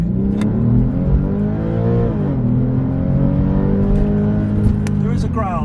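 A Porsche 996 with a valved aftermarket exhaust revs hard from inside the cabin, its loud, deep engine note climbing steadily in pitch and dipping briefly as it accelerates, with the growl holding strong near the top of the rev range.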